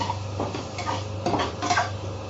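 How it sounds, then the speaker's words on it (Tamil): Prawns being stirred with masala in a pan while cooking prawn biryani, heard as clinks and scrapes of a utensil against the metal pan over a low steady hum, with only faint sizzling. "அஞ்சு நிமிஷம் நல்லா வதங்கணும் இறால மசாலாலாம் நல்லா கலந்துருக்கணும்"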